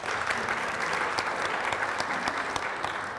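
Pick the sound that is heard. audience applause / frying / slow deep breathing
audience applause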